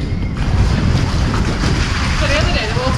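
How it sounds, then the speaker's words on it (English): A boat moving over the water in Malmö, with a steady low engine rumble and rushing water under heavy wind buffeting the microphone, close and continuous throughout. "So we are on a boat in Malmö right now"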